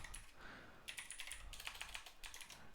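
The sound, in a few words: typing on a computer keyboard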